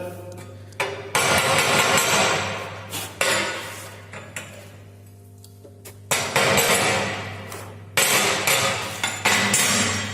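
A hammer chips slag off a fresh stick-welded joint, a series of loud metallic clinks and scrapes coming in bursts with short pauses between, close by and with no talk.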